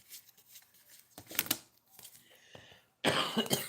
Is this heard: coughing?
yes